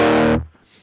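A single distorted electric guitar chord, played through a Line 6 HX Stomp on a Brit Plexi Bright amp model, rings out briefly, then is cut off abruptly and fades into near silence.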